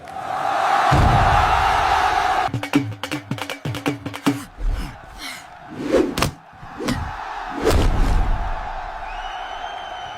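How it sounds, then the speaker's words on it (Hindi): A crowd shouts at a village wrestling arena, a dense roar at first that breaks into sharp slaps, thuds and bursts of yelling. The din swells and falls in uneven waves and stays loud and close. "लोग चिल्ला रहे थे"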